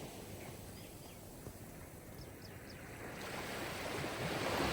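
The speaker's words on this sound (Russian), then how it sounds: "Ощути, как шум воды наполняет" Steady sea surf and rushing water noise at a relaxation setting, a continuous broadband wash that swells gradually louder toward the end, with faint high chirps briefly over it.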